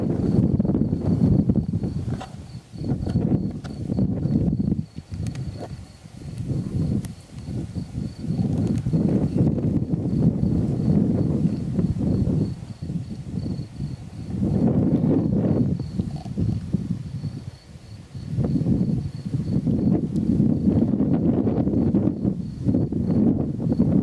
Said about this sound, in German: Ja, aber es ist windig hier.